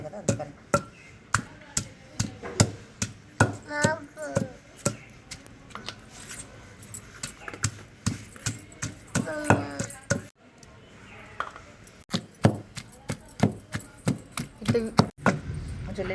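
Onions are pounded in a mortar, a close, steady series of sharp thuds for several seconds, then a brief pause before the pounding resumes; a voice speaks faintly at times underneath.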